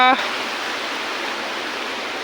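A hidden forest waterfall in the Konkan region roars nearby as a dense, steady rush of falling water, loud and unbroken after a brief voice at the very start.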